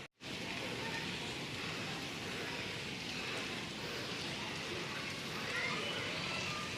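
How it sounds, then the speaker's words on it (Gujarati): Soft, continuous hiss of light drizzling rain, steady and even throughout with no distinct drops standing out. "અત્યારે ઝરમર ઝરમર હવે વરસાદ આવે"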